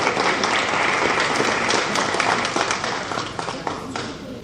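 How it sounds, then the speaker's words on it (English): Audience at a trail association's annual meeting gives a round of applause, a dense, loud wash of many hands clapping steadily before tapering slightly at the end. "So give yourself a round of applause."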